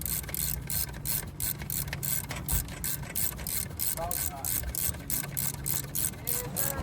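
A ratchet works a bolt loose on a second-generation Toyota Tacoma during an alternator upgrade, with steady rapid clicking throughout, close and continuous over low hum and a few faint chirps.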